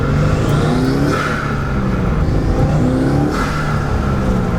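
A Subaru WRX turbo engine with a stock blow-off valve revs loudly and steadily nearby, a continuous throaty drone that rises and falls slightly over a few seconds, with no talking.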